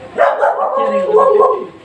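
A husky dog cries and whines in a long, wavering, high-pitched howl held close and loud over nearly two seconds.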